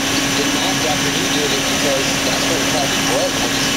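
A Toyota Land Cruiser V8 2UZ-FE engine idling steadily after a corrected timing belt job, a constant loud hum with a low drone throughout, with people talking over it.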